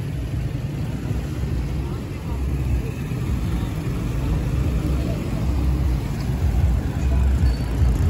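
Single-side evening traffic jam on a road in Mirpur, Azad Kashmir, with a steady low rumble of idling and slowly moving vehicles, growing slightly louder toward the end.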